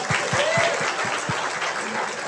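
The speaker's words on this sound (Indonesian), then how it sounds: "Wah, tepuk tangan dulu, tepuk tangan." Audience applause at a national gathering of drivers in Indonesia, a short dense burst of clapping with soft low thumps beneath, continuous and fairly loud throughout.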